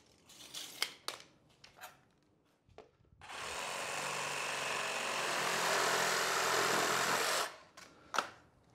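A power tool cuts through a 4-inch plastic radon pipe in a basement, giving a loud, continuous whirring cut of about four seconds between scattered handling clatters.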